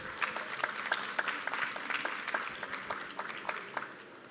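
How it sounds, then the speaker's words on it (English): Conference audience applauding, a room of clapping hands with distinct individual claps standing out in an uneven rhythm, moderately loud and sustained across the whole stretch. "That deserves a round of applause for the entire room."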